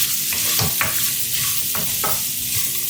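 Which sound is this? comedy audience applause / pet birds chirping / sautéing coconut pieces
sautéing coconut pieces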